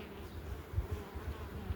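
Honey bees humming at a hive of a good-breed queen colony, a low steady drone with soft pulsing swells, fairly near and continuous with no talk.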